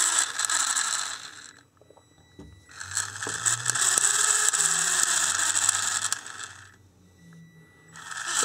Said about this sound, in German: Motortest, man hört schon, die Motoren werden getestet.